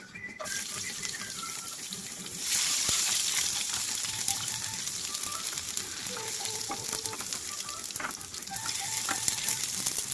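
Garlic sautés in a pan for a chayote and carrot dish, a steady watery sizzle that swells louder partway through, with scattered light clinks of a utensil against the pan.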